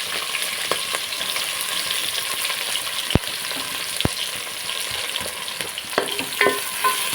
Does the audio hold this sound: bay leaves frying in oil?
yes